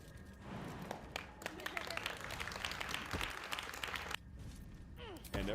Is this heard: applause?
yes